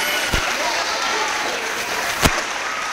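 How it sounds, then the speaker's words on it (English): An audience at a school academic awards ceremony claps for students with perfect attendance, a steady, moderately loud roomful of applause with a couple of sharp thumps standing out, and faint voices mixed underneath. "let's give all of these students a big round of applause for not missing any days"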